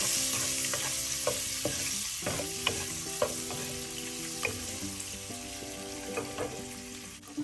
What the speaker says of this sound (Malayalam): നമുക്ക് മുട്ട അതിലേക്ക് ചേർക്കാം. ചെറുതായെല്ലാം ഒന്ന് റോസ്റ്റ് ചെയ്യാം.